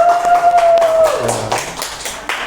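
A classroom of students claps hands in applause, a brief scattered patter of claps heard close, with a short spoken word and a tone fading under it.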